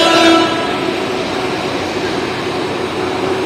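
A metro train rumbling steadily nearby at a Hyderabad bus station, with a short horn sounding at the very start.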